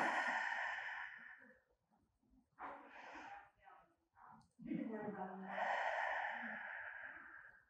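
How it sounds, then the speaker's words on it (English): Slow, deep breaths in and out during a gentle seated stretch, soft airy inhales and longer exhales close to the mic, with quiet pauses between them. "take a big deep breath in and out, observing the quality of your breath"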